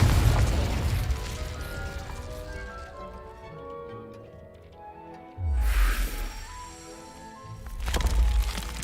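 Fiery blast of the Confringo spell in Hogwarts Legacy, a booming burst that lands mid-clip over a low rumbling game backdrop, followed by another swell of explosive noise near the end.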